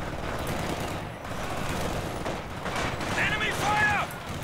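Gunfire in the Company of Heroes 2 video game, rattling bursts of small-arms and machine-gun fire mixed with battle noise, steady and fairly loud, with brief shouted voices over it.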